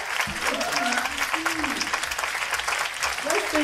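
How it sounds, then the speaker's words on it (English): An audience claps for a guest at an arts center event, steady close applause filling the room for a few seconds, with voices and cheers mixed in. "let's give a round hand clap of applause for Eugene"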